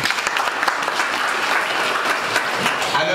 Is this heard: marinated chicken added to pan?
no